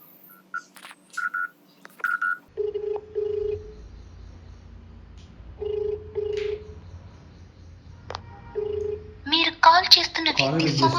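A phone call goes out: a few short high beeps of dialing, then a steady paired ringback tone repeating in evenly spaced bursts, loud and close, with a brief voice sound near the end.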